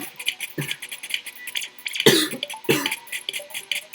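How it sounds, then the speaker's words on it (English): A few harsh coughs, about three, sound close by with short gaps between them, over faint background noise. "Oh, I'm so sorry about the coughing."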